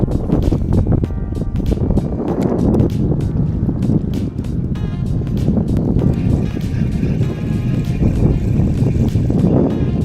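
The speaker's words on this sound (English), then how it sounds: "I'm sorry about the wind" Steady, heavy wind buffets the microphone on a lakeshore during shore fishing, a loud continuous low rumble with gusting thumps throughout and no talking.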